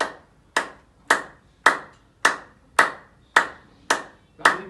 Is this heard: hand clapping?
yes